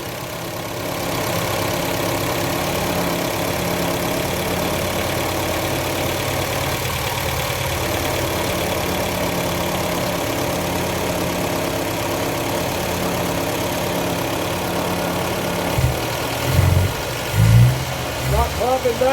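A 1953 Austin A40 Somerset engine idles smoothly and steadily after a tune-up, running near and continuous, with a few brief louder bumps toward the end.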